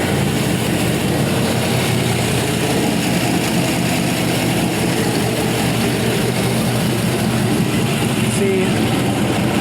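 A big-cam 5.3-liter LS V8 idles steadily and loudly close by, a dense, continuous low rumble with a slightly choppy lope holding even for the whole stretch, with no talking over it.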